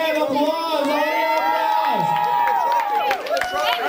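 At a robotics world championship final, a crowd cheers loudly, with high children's shouts and whoops over scattered clapping, sustained and close throughout.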